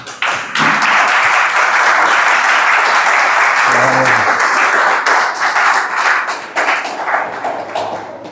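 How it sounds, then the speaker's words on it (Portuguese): A church congregation at a Brazilian family worship service bursts into loud, dense clapping that holds steady for several seconds, then thins into scattered claps toward the end, with a brief murmur of voices in the middle. "Pode se assentar e glorifique o Senhor com as palmas."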